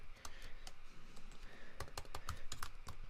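Quick bursts of keystrokes as a link title is typed on a computer keyboard, irregular clusters of light clicks, close and fairly quiet with no voice.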